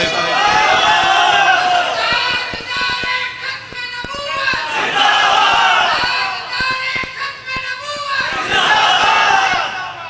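A large crowd at a religious gathering in a mosque in Sukkur chants slogans in loud rhythmic waves of many voices, swelling and fading three times, with a speaker's voice among them.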